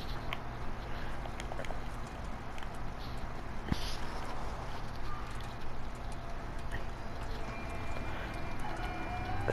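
Horses clip-clopping in the video game A Way Out, a steady patter of hooves over a dense bed of game ambience and music.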